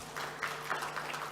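Audience applause at a talk show, a steady patter of clapping hands that swells slightly in bursts across a short stretch, moderately loud and without speech over it.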